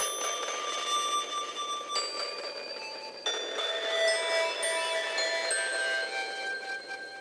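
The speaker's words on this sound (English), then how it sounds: "You can hear that feedback fading in and out, which makes things really interesting." Layered ringing bell tones sustain and overlap, with a shimmering feedback tail that swells and fades across the passage, fairly loud and continuous.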